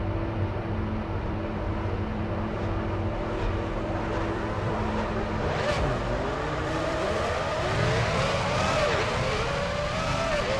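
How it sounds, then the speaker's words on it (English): Formula One cars in F1 Championship Edition pulling away from the grid at the Australian race on the parade lap, engines humming steadily, then revving up and rising in pitch as the field moves off, loud and close, with some voices mixed in. "And the field move away to begin the parade lap."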